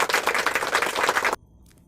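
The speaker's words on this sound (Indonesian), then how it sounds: "beri tepuk tangan untuk kelompok 1" A classroom group bursts into brief applause, dense close clapping for just over a second before it cuts off abruptly into near silence.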